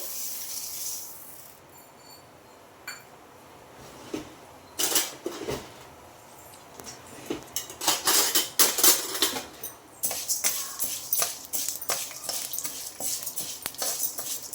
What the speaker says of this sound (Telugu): దీంట్లోకి ఇప్పుడు మినప్పప్పు వేసుకొని వేయించుకోండి